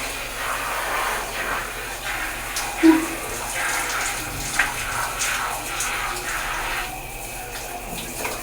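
Steady spray of water hissing continuously, like a shower running, with a few faint knocks and clatters underneath.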